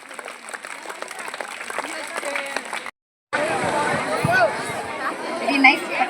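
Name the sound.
audience clapping at kids' karate performance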